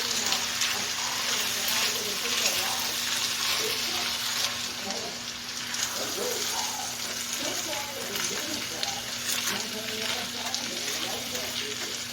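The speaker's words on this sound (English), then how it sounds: "I'm just going to give that a stir real quick." Casserole stirred and sizzling in a pan, a steady dense frying hiss with scraping stir sounds throughout, close and continuous beneath a faint background hum.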